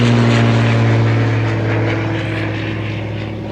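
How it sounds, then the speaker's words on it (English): A propeller aircraft flies overhead, a loud, steady engine drone with a strong low hum that slowly fades slightly as it passes, heard outdoors with no talking. "because there's a plane going over."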